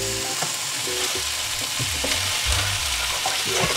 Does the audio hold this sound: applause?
no